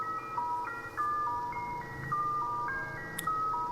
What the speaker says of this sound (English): we're tuning into the ice cream truck